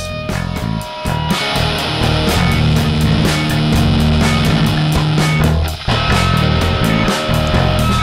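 Heavy, thick distorted music through the Airwindows Density audio plugin plays with a dense, saturated low end and steady driving rhythm, loud and compressed throughout.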